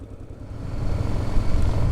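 A 1988 Yamaha Ténéré 600 motorcycle rides along the BR-364 highway in Rondônia, giving a low engine and road rumble that swells louder and steadier after the first moment, with no voices.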